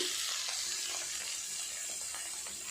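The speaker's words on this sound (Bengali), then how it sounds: "বেগুনগুলোর মধ্যে একটু নুন আর হলুদ দিয়ে চাপা দিয়ে ভালো করে ভাজা করে নেব।" Brinjal slices frying in hot oil with salt and turmeric give a steady, close sizzle throughout, with faint clinks of stirring now and then and no voices.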